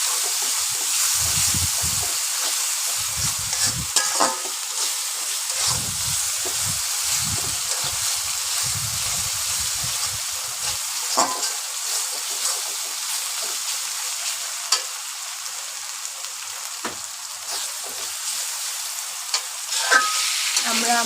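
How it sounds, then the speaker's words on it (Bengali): Turmeric and salt frying in a pan for a shing fish curry with taro, with repeated scraping stir strokes over a steady close sizzle and hiss, with no voices. "এবং সম্পূর্ণটিকে ভালো করে নেড়ে চেড়ে এবং কষিয়ে নেব।"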